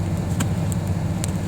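A truck engine idles while warming up on a cold winter morning at a campsite, a steady low rumble close by, with a few faint clicks and knocks on top and no talking.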